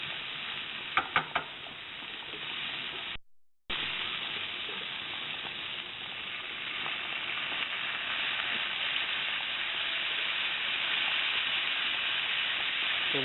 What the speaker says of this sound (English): just stir frying the vegetables in it